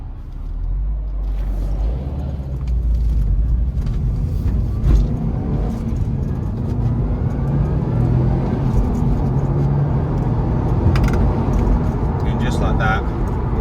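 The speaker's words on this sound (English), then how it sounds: "hear the sound of the engine, the sound of the exhaust" A 2012 Subaru WRX STI 2.5-litre six-speed manual engine drones with a deep, steady exhaust rumble from inside the car at about 70 mph, while a person talks over it.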